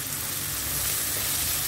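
Sliced cabbage frying in a hot pan gives a steady, close, hissing sizzle that stays even throughout, with no voices.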